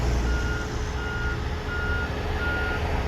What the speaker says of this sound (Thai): นี่เป็นเกรเดอร์ แล้วก็ชุดบอดอัดนะครับ XCMG